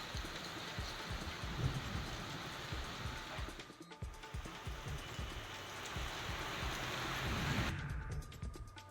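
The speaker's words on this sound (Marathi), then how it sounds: "अचानक अवकाळी पाऊस वाऱ्यासह जोरदार पाऊस बरसला" Dense, steady unseasonal rain roars continuously with strong wind, gusty rushing noise and occasional low rumbles in the background; no voices.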